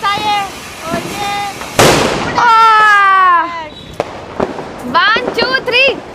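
A Diwali firecracker bomb goes off with one sudden loud burst, surrounded by excited voices talking and calling out before and after it.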